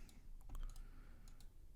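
Quiet typing on a computer keyboard, a few scattered light key clicks in a brief irregular burst, faint and alone with no talk.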